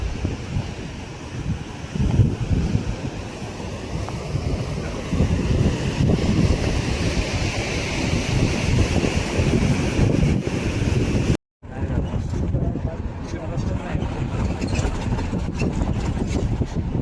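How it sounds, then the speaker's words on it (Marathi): Wind buffeting the microphone over rolling waves at Tarkarli beach, a continuous roar of surf and gusts, loud and steady, with a brief dropout partway through. "आम्ही सध्या आहोत तारकर्ली बीचला. बघू शकता हे तारकर्ली बीच."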